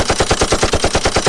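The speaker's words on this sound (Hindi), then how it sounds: "एमएमजी फायर करती रही और गोलियां बरसाती रही" A medium machine gun fires a fast, continuous burst of evenly spaced rounds, loud and close, with a steady rattling rhythm and no voices, staged as a battle effect for a 1971 war scene.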